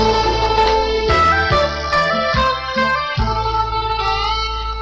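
A song with a male singer plays back steadily, his voice carrying a clear melody over a thumping low instrumental backing with rhythmic bass hits.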